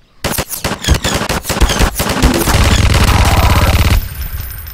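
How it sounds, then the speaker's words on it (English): Rapid automatic gunfire from the video game Garry's Mod, a dense burst of loud shots at first, then a sustained chattering stream of fire that cuts off near the end. "How is he shooting me?"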